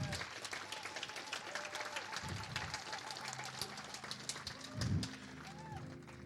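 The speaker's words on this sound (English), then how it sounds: "So another round of applause for Dr. John Ryan." Audience applause for Dr. John Ryan at a talk on healing and earth changes, a faint, steady wash of many hands clapping from a distance, with a few low thumps and murmurs under it.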